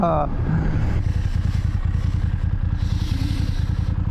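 A motorcycle runs on winding serpentine mountain roads, its engine a steady, close, rumbling drone throughout, with a voice talking over it.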